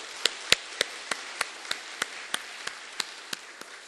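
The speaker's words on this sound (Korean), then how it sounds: "감사의 박수로 영광 돌리겠습니다" Slow, evenly spaced sharp claps, about a dozen in under four seconds, from a church congregation giving thanks during an Easter resurrection sermon, sounding fairly faint and distant with no talking over them.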